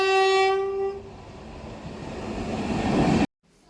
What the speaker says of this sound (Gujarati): ત્યાં ટ્રેન આવી ગઈ ને